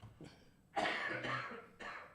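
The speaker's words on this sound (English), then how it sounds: "I swear I'll get rid of this cough eventually." A single harsh cough, preceded by a small throat sound, then a second shorter cough, close and fairly quiet with no talking.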